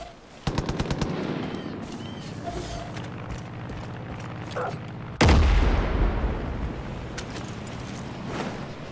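Machine gun fire while strafing in the video game Far Cry 5 rattles in a rapid, loud, sustained stream, then a heavy boom hits and the firing carries on more faintly under engine drone.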